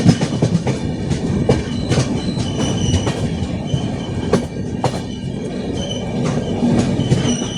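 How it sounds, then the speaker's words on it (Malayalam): The Mangala Express switches onto a loop line near a station. Wheels clatter over the points with repeated sharp clacks and faint squeals, all over a loud, steady rolling rumble and with no talk. "ലൂപ്പ് ലൈനിലേക്ക് നമ്മുടെ ട്രെയിൻ അങ്ങനെ കയറ്റിയിരിക്കുന്നു."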